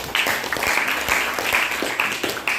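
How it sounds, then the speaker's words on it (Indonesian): Steady applause from a group, continuous hand clapping throughout, fairly loud and close. "Oke, tepuk tangan."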